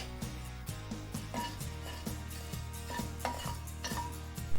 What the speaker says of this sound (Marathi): आपल्याला दुधामध्ये साखर विरघळवून घ्यायची आहे, तोपर्यंत आपण त्याला मिक्स करणार आहोत